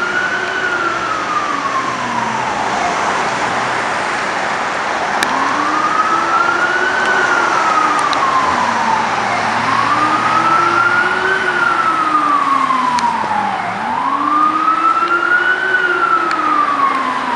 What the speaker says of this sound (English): Ambulance number four today responding.